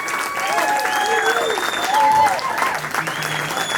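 A small bistro audience claps steadily for a performer at the end of his set, with voices and calls rising over the applause throughout.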